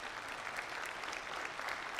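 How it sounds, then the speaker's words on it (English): Clapping from a crowd at a winter commencement ceremony, a steady wash of many hands heard from a distance at low volume, continuing evenly without a break. "you can clap."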